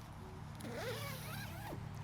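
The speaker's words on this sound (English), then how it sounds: "So two-way zip as well, so you've got a zip, which is your main zip to get in and out of." The main two-way zip on a Robens Serac 600 down sleeping bag is pulled in a few quick close strokes, each making a rasping sweep, with no talking over it.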